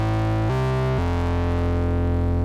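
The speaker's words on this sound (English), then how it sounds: "let's take a listen to what our basic two-oscillator thing sounds like." A basic two-oscillator synth patch built in Reaktor Blocks plays loud and alone, stepping through three sustained, buzzy tones with a long decay and no talking.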